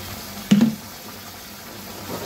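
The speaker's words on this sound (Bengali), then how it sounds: "আর একটু তেল দিয়ে দিলাম।" A little cooking oil goes into a pot of onion curry, making one short splash followed by a steady low hiss that fades slightly over the next couple of seconds.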